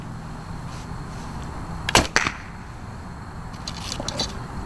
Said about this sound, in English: Basically all you're hearing now is the smack of the arrow down that burlap target.